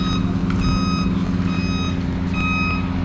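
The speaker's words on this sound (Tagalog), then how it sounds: "Palabas na po ang truck." A truck driving out of Calolbon port in San Andres, Catanduanes, sounds three repeated reversing-beep bursts over a loud, steady low engine rumble, close by.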